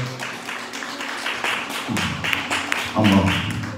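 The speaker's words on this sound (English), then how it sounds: "keep clapping those hands for the Lord" Hands clapping for the Lord at a church service, a steady run of sharp claps from a congregation, fairly close and loud, with voices and music-like tones mixed in underneath.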